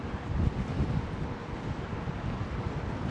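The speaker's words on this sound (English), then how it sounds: "Welcome to a very windy Highline Park." Strong wind gusts buffet the microphone on the elevated High Line park in New York City near the Hudson Yards rail yard, a loud, rumbling, uneven roar with no voices.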